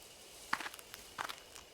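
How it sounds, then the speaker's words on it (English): A few footsteps come from the bushes in the horror game Death Mark, two short clusters of quiet, crunching steps separated by a brief pause, fairly close and with nothing else over them. "I hear footsteps again. They seem to be getting closer."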